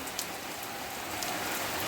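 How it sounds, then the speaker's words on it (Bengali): Rain falls steadily with a dense, even hiss of drops and no voices, constant from start to finish. "বৃষ্টিটা একটু উপভোগ করি"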